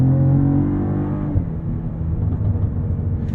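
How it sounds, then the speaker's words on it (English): A 2023 Cadillac CT4-V Blackwing sports sedan engine rumbles steadily at low pitch, then settles into a burbling, crackling exhaust overrun as the revs drop off. "The rumbling overrun from that exhaust."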